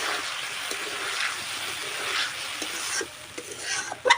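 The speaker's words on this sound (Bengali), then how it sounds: "ডিমগুলোকে দিয়ে আমি 2 মিনিটের মতো হালকা আঁচে কিন্তু কষিয়ে নেব" Fried eggs cook in oily spice masala over low heat, giving a soft, steady sizzle with occasional gentle stirring scrapes and a few clinks near the end.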